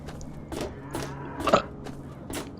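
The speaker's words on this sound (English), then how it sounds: "I burped. I burped again." Several short guttural burps in a row from a Fallout 3 character, each a brief throaty bump, with the loudest near the middle, fairly close and quiet against a soft game background.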